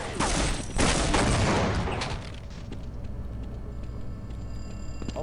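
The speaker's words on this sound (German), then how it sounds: "die schießen mich über den Haufen" Heavy gunfire crackles in the Half-Life mod C.A.G.E.D, a dense loud burst of rapid shots for the first two seconds, then thinner scattered shots and a lingering mechanical background.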